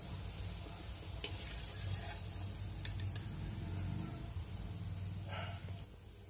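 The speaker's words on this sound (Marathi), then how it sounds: "दोन्ही साईडने चांगले तळून घ्यायचे आहे।" Soya kababs fry in oil that is only moderately hot, giving a soft, steady sizzle with light bubbling, a few faint clicks of a utensil, and a quieter tail at the end.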